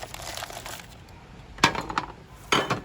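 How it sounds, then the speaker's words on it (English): Glass tray handled in a kitchen as a set snack is popped out, with a soft scraping rustle followed by two sharp clattering knocks of glass and utensil, close and alone. "I'll just pop this out of the glass"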